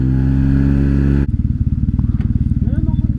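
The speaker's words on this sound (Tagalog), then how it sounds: "mga sampung motor kami ngayon" About ten motorcycles and scooters, including an X-Max, a Honda, several NMAX 125s and a KTM 125, ride together in France. A loud, steady engine drone gives way to a rhythmic, pulsing putter of engines up close.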